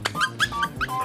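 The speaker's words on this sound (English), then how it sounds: "I can't believe I have my own dog." Short, squeaky dog yips come in a quick run of about four, close and fairly loud, with no talking.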